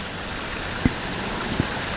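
A small creek flowing from a pioneer-era mill past a bridge at Bluff Fort makes a steady, soft broadband rush, with two faint knocks standing out above the continuous water.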